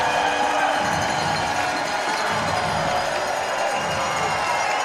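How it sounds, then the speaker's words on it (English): An arena football crowd cheers and roars inside the indoor venue during an Arena League game, a loud, sustained swell of shouting fans. "And the crowd comes to life."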